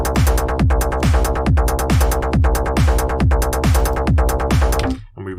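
Trance beat playing back in FL Studio: a driving synth bass line on offbeats with a steady four-on-the-floor kick drum and bright layered synths, loud and continuous before cutting off abruptly near the end.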